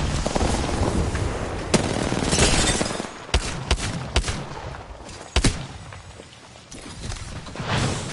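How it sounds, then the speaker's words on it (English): Gunfire in the video game Apex Legends, sharp individual shots and short bursts spread irregularly over several seconds amid rumbling game noise. "Can you stop shooting at me?"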